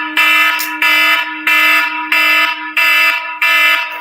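An alarm clock going off, a loud electronic beeping in six regular bursts of about half a second each with short gaps, close by and heard alone.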